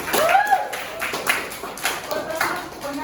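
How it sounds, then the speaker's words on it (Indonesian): Classroom applause at an Indonesian university lesson, a short burst of scattered clapping from a small group, close and uneven, with speech mixed in. "Bagus, beri tepuk tangan kepada Dafri."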